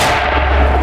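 A loud, sustained boom of a mortar firing at a Bakhmut frontline position, with a heavy low rumble filling the whole moment, no voices present.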